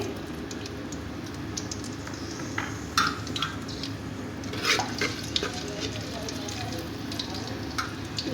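Steady sizzling of garlic-ginger paste frying in hot oil, with occasional clinks and stirring scrapes on top, moderately loud and close.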